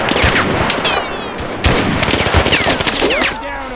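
Rapid machine gun bursts and scattered rifle shots crack loudly in a World War II war game battle, with short pauses between volleys and someone shouting in the background.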